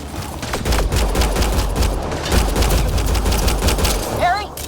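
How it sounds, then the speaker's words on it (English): Rapid, dense gunfire from the video game Mass Effect: Andromeda, bursts overlapping into a steady barrage with some shouting voices mixed in. "Just keep firing, we can do this!"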